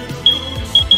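A smoke alarm chirps through a voice call during an online game session: three sharp, high beeps, thin and compressed, over faint background noise.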